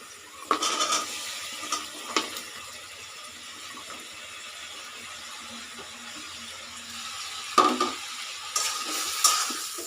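Chopped ridge gourd frying in a pan, with a soft steady sizzle and scattered clinks and scrapes of a spatula stirring against the metal, louder near the start and end.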